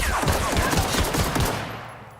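Rapid gunfire from weak weapons in the video game The Outer Worlds, a dense burst of loud shots that tails off toward the end.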